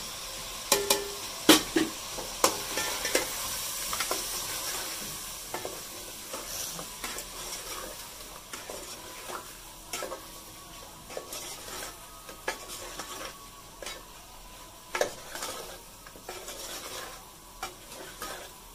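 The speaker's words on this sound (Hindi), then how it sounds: "पहले थोड़ा सा मसाला भून जाए।" Masala spices fry in a small amount of oil for a Pakistani chicken salan, with a continuous close sizzle broken by frequent sharp scrapes and clinks of a stirring spoon against the pot.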